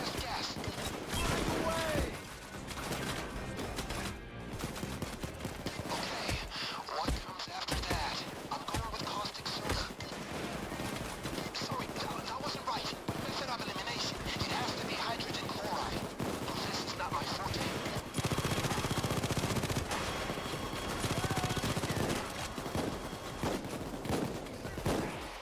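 Video game sniper gunfire, with dense, continuous shots and bursts of fire under a busy, loud game mix that runs the whole time.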